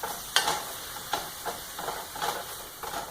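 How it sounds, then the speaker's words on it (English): Hamburger meat browns in a well-seasoned skillet, with a soft sizzle under several gentle scrapes and pushes of a utensil, close but fairly quiet. "You just want to brown the hamburger."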